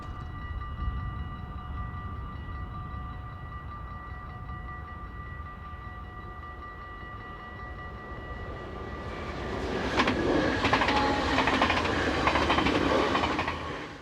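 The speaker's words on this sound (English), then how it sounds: "Rounding the curve after its Roermond station stop is unit number 9412, forming the 1038 service from Amsterdam to Maastricht." Passenger train unit 9412, running a service from Amsterdam to Maastricht, rounds a curve after its Roermond stop, starting with a steady tonal hum and then swelling into louder rumbling and wheel clatter as it draws near.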